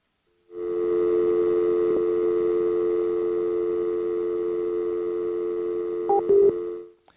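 A telephone gives a continuous tone after being hung up, a loud steady hum held for several seconds with a few brief clicks near the end before it cuts off.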